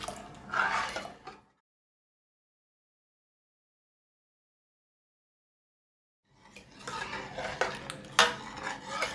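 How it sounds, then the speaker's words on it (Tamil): A spoon scrapes and clinks against a pot of boiling ragi porridge, stirring in short bursts, with a long stretch of silence between the two busy spells. "நம்ம நல்லா கிண்டிக்கிட்டே இருக்கணும்"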